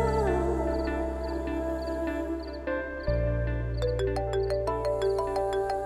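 A mobile phone rings with an incoming call during a domestic drama scene, playing a moderately quiet melodic ringtone whose repeating chime notes continue for several seconds over background music.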